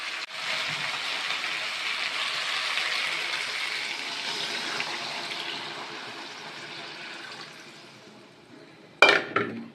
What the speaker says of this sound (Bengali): আমি এবার ঝোলের জন্য জল দিয়ে দেবো।